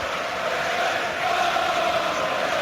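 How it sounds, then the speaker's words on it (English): Arsenal fans in the crowd at a Premier League match against Manchester United chanting, a steady dense roar of massed voices with a faint tonal line, continuous and moderately loud throughout. "There are Arsenal fans finding their voice."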